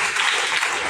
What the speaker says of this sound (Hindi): ताली बजा सकते हैं इस बात से?